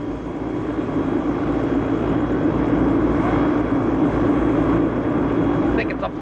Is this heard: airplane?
yes